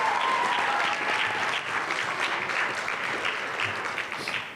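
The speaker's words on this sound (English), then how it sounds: "Let's get another round of applause for the Central Counseling Services." Steady, dense applause from a youth summit audience for a Central Counseling Services presentation, sustained and fairly loud before tapering off slightly at the end.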